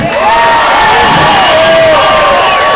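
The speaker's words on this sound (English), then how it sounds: "Let's give a big round of applause for these kids." A crowd cheering and whooping for kids at the March Against Monsanto in San Francisco, a dense roar of shouting voices, loud and close, with some clapping mixed in throughout.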